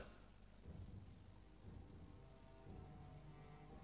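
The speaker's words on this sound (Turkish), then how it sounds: "Fırtına" A storm sound effect of steady heavy rain with low rolling thunder rumbling underneath, a continuous dense wash of noise at moderate level with no voices.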